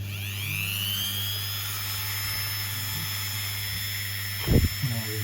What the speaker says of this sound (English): now I have my old Dremel, but with the dangly thing